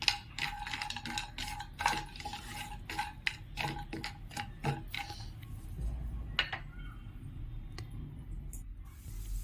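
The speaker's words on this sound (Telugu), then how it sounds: "వేరే ప్యాన్లో ఇప్పుడు 1 టేబుల్ స్పూన్ నెయ్యి వేసుకొని జీడిపప్పు, బాదం పప్పు ఫ్రై చేసుకోవాలి" Cashews and almonds are stirred in a pan of ghee. Quick metallic taps and scrapes from a spoon come in bursts at the start over a low background, then thin out to a few scattered clicks.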